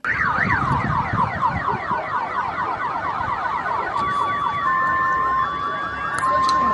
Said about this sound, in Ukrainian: машини вдень і вночі дратують людей сиренами сигналізації